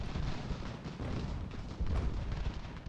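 Canister shot from artillery in Ultimate General: American Revolution booms as a dense, rumbling barrage of low, scattered blasts, steady and continuous with no talk over it.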